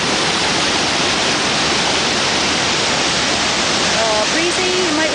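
The waterfall at Dillon Falls on the river near Bend, Oregon roars as a loud, steady, dense rush of water, close and unbroken for the whole stretch, with a faint whistle-like tone briefly near the end.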